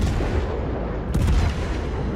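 Heavy gunfire in a video game battle, a dense continuous barrage of booming shots that swells with a louder burst midway and runs throughout without pause.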